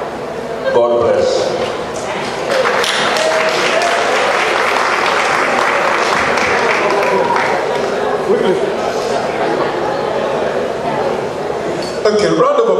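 Guests at a 2022 Boston wedding celebration applaud Mama Nalongo and her family with loud, sustained clapping lasting over ten seconds, with glasses clinking and chatter mixed in and voices at the start and end.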